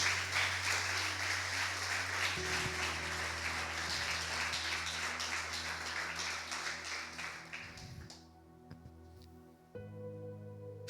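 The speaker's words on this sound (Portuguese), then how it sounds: "Se você crê, aplauda o nome dele aí, em nome de Jesus." A church congregation claps during a sermon, dense sustained applause over a low organ or keyboard drone, fading out near the end before the instrument returns.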